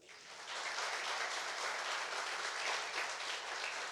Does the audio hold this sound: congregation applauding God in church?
yes